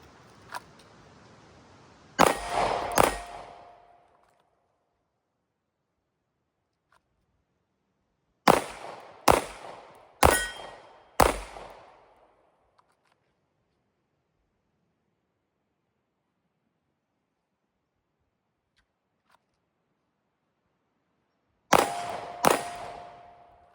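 Suppressed gunshots at a shooting target ring out in separated bursts: two close sharp reports, a pause, three more in quick succession, a long quiet stretch, then a final pair, each crack loud and near with a short decaying tail.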